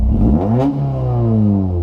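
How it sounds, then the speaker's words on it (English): A single quick Toyota AE86 engine rev climbs and falls, then settles into a steady, loud mid-range drone, close by. "Give me some revs again."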